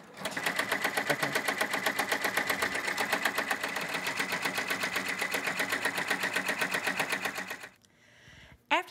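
Embroidery sewing machine stitching an applique placement line, a fast even mechanical chatter held steady for over seven seconds before it stops, with faint talk after.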